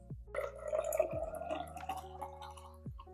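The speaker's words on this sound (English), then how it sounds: "that is so much water I just spilled" Water splashes and drips while French press coffee is being prepared, a close wet spill followed by trickling and scattered drops, with a few faint clinks.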